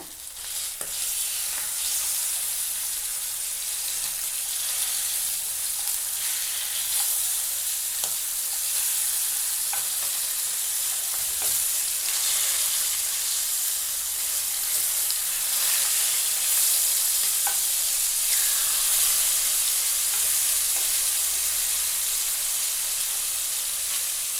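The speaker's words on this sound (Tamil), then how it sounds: "மீன் 1 சைடு ஃப்ரை ஆன பிறகு திருப்பி போட்டுக்கோங்க." Fish frying in oil in a pan gives a steady, bright sizzle and hiss that runs unbroken and fairly close, with no voices over it.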